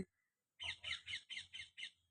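A flock of parrots in a pongamia (pungai) tree gives six rapid, harsh screeching calls in a steady burst after a brief quiet moment, fairly close and loud.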